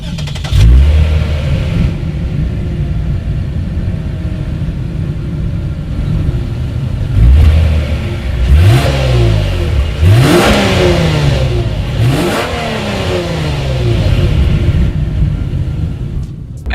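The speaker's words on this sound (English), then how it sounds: "As always, here is that exhaust clip." A Lexus sports sedan idles with a deep exhaust rumble, then revs sharply several times in quick bursts, loud and close, settling back between each rev.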